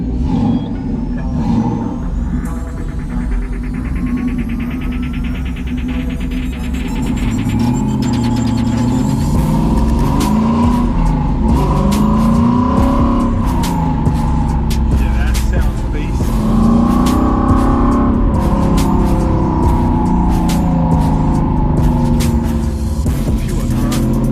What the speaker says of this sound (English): The way the car sounds, sensational.